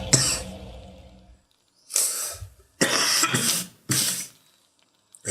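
A man coughs in about four harsh bursts: one near the start, then a cluster of three later, with quiet gaps between them and no speech.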